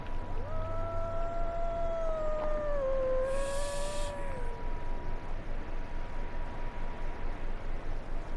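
A wolf in the Red Dead Redemption 2 video game lets out one long, wavering howl that rises and slowly falls away over a steady background rumble, with no talk during the call.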